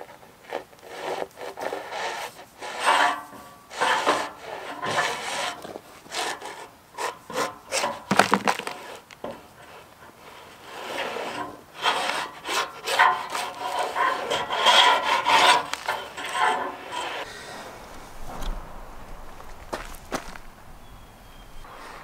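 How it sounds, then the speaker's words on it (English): Scraping and rasping as old grime is cleaned out of a boat trailer's spindle pipe, a steady run of rough, close scratching strokes with irregular bursts and knocks, no talking. "now I need to get all the nasty junk out of this pipe"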